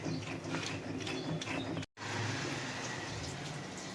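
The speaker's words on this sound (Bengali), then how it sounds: "কালো জিরে দেবো আর পোস্ত দিয়ে আমি একসঙ্গে বেটে নেবো।" Black cumin and poppy seeds are ground together for a potol vorta, making a steady, close mechanical whirring rattle with a brief cut in the middle, and no talking.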